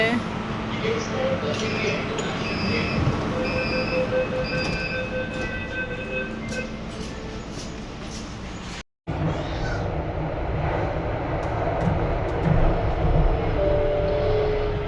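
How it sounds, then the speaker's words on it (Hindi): A Delhi Metro train rumbles and squeals as it pulls into the station, loud and close, with brief electronic tones and a sudden cut partway through. "मेट्रो भी आ गया है।"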